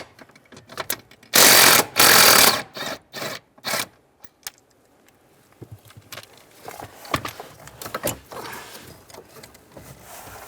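Ratchet with a 15mm socket loosening the front bolts on a 2007-2013 Chevrolet Silverado during EVAP core replacement, giving several loud close bursts of rapid clicking separated by pauses, followed by quieter scattered handling noises.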